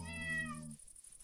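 A Minecraft cat gives a single drawn-out meow, clear and close, that fades out after under a second.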